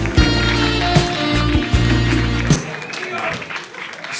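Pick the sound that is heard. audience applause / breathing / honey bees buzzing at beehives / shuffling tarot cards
audience applause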